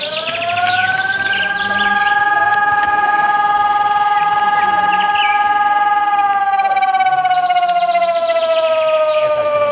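A civil defense alarm siren sounds loud and sustained, its wailing tone swelling and slowly falling, with birds chirping faintly in the background.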